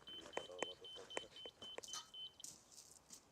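Repeated electronic beeps from a laser leveling device on a construction site during French drain work, a string of short, steady pips in an irregular rhythm, with faint background noise and brief rustling between them.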